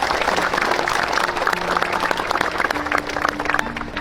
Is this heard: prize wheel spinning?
no